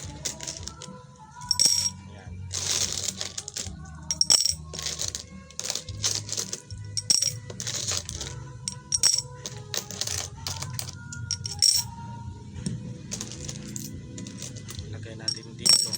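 Coins dropping into a jar during a Filipino money-luck ritual, a long run of bright metallic clinks and jangles landing one after another at an uneven pace, close and clear, with a voice talking in the background.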